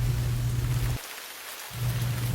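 Rain falls on a Florida refuge as a steady, loud hiss with a low rumble underneath, breaking off briefly at the midpoint before resuming.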